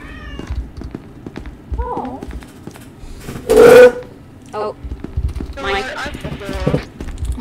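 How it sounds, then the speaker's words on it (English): A pet cat meows faintly a couple of times in the background, the short wavering calls mixed in with clattering game sound effects during SCP: Secret Laboratory play. "don't worry if you hear a cat, I think it's my cat again."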